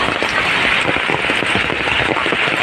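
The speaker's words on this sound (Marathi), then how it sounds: "कसला धो पाऊस लागले आज" Heavy Mumbai monsoon rain pours down in a dense, continuous patter, drumming loudly on a nearby surface with no voices.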